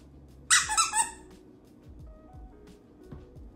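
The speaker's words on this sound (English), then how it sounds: "having a dog that is squeaking like that in the bag during your conf calls" A Shiba Inu puppy squeaks from inside a bag in a quick burst of high, shrill yelps that lasts about half a second, then gives way to quiet background hum.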